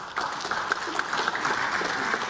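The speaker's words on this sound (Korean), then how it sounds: "의원석에서 박수가" Lawmakers in the National Assembly chamber applaud during a party leader's floor speech, a steady wash of clapping that stays even and moderately loud throughout the short stretch.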